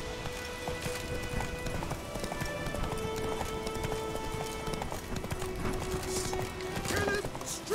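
Hooves clop rapidly and rhythmically as Geralt's horse Roach gallops in The Witcher 3. Game music plays underneath and a voice speaks over it.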